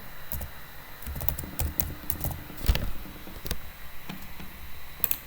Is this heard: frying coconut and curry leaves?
no